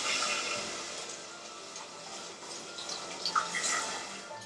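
Water pours steadily into a cooking pot on a kitchen stove while butternut squash soup is being made, a continuous moderate splashing wash with no talk.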